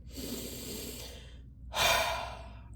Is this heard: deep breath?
yes